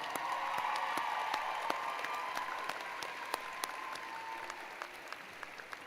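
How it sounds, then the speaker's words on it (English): Steady applause from a large audience at a university commencement ceremony, a continuous wash of clapping with a few sharper nearby claps, gradually tapering slightly. "please show your thanks and applaud these dedicated individuals who've guided you along your journey"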